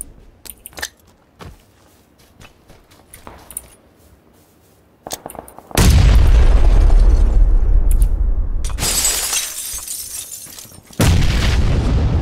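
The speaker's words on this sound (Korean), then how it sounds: "수류탄 한번 던질게요." A grenade detonates in PlayerUnknown's Battlegrounds, a loud, sustained blast roaring over several seconds and returning in a second burst, preceded by quieter clicks and shuffling game sounds.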